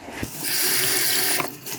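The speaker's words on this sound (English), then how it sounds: "I just want to wash my hands quickly." Water from a kitchen tap runs over hands in a sink as they are washed, a steady hiss of flow lasting about a second with soft splashes at the start and end, nearby and alone.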